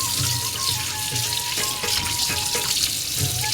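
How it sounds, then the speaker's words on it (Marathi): Fish being rinsed under a running tap while scales are cleaned off, a steady broadband gush of water with faint handling clatter throughout, close and fairly loud. "मी आता हे चालू पाण्यामध्ये ह्यांना धुवून घेते"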